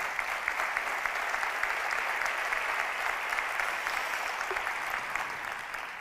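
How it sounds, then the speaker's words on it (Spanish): A business conference audience applauds at the opening of a commerce meeting in Castilla y León, with sustained, even clapping from a large crowd at moderate distance, steady throughout and without speech. "Vamos a aplaudirle con ilusión y entusiasmo."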